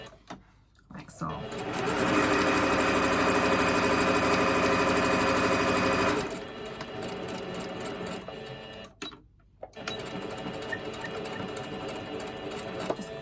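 A sewing machine stitching fabric scraps to make lip balm holders, a loud steady mechanical whir for several seconds, then shorter back-and-forth stitching bursts, with someone talking.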